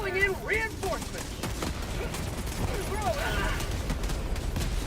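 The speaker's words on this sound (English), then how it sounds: "Walking barrage is still going." A walking barrage artillery strike in Helldivers 2 rumbles as a continuous roar of distant explosions and gunfire, with voices talking over it.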